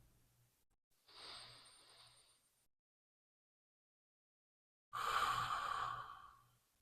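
Two slow, breathy exhales during a yoga stretch, each lasting over a second, separated by a quiet pause, close and soft like long sighs.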